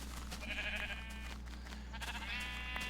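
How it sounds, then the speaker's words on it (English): Minecraft sheep in the Tekkit mod pack give several nasal, wavering bleats in quick succession, faint and distant under a steady low background hum, with no talk. "And so, a lot of sheep."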